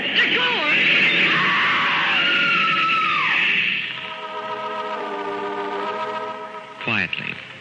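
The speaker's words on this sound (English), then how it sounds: "The woman screams." A woman screams long and shrill in a 1940s radio drama, loud and sustained over a train grinding to a stop, followed by orchestral music and a final sharp cry.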